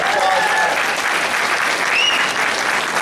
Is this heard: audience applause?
yes